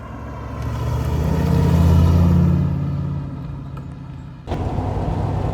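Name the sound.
MGB GT V8 car engine accelerating while driving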